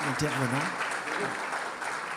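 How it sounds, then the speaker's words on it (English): Applause from the audience for two speakers at a social innovation pavilion event, a steady broadband wash running the whole time with a voice speaking over its start. "un grand round d'applaudissements pour nos deux"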